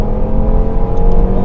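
A 2017 Audi TT RS engine pulls hard in fourth gear, a steady loud drone rising slightly in pitch, close and continuous with no talk.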